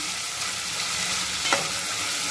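Steady, dense sizzle of ginger, garlic and onion frying in a hot pan, with a brief stirring scrape partway through and no talk.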